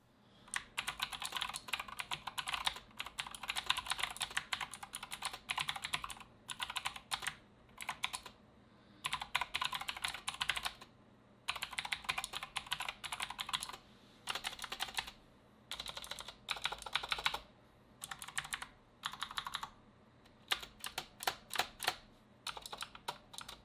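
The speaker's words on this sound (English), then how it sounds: "Now for anyone that wants to hear how this keyboard sounds, here's the part for you." Rapid clacky typing on a Razer BlackWidow V3 mechanical gaming keyboard with green switches, close up, in bursts with brief pauses, crisp and continuous for a long stretch.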